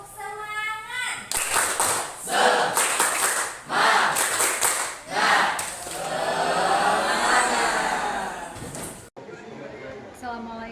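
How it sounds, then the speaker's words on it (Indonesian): A school group at SMA Negeri 1 Kalianda performs a rhythmic spirit-clap routine, with bursts of patterned clapping mixed with chanted voices and then a longer sustained spoken stretch before the sound stops. "Tepuk semangat."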